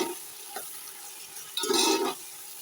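Chopped tomatoes tipped into a pan of frying biryani masala with garlic, giving a short wet stirring and sizzling burst near the end after quieter low clatter, heard close up with no talking.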